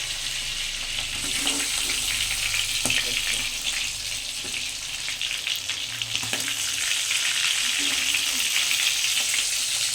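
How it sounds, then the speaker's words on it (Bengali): Crab pieces, fried with cauliflower, sizzle and crackle steadily in hot oil in a pan, producing a continuous broadband hiss with a few faint stirring clinks and no talking. "দেখো কীভাবে ভেজে নিয়েছি"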